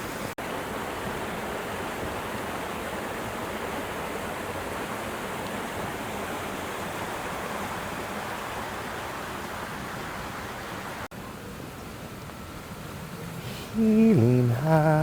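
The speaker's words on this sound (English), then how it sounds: "Water is rushing." Floodwater rushing after three days of heavy rain, a steady loud broadband roar throughout, with brief tonal sounds near the end.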